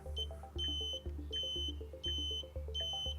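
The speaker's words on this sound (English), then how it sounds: "I've got my multimeter set so that it just beeps when it senses a connection" A multimeter on continuity gives four evenly spaced high beeps, each lasting a moment, in sync with a Tesla Model Y turn signal's soft rhythmic clicking while testing a trailer light wire harness, all fairly quiet and near.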